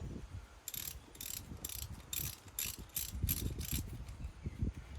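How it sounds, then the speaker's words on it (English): A ratchet clicks in quick repeated bursts while loosening a top bolt on a Jeep JK during a thermostat kit install, each stroke a crisp metallic run of pawl ticks, close up with no talking. "the bolt on the top with the ratchet"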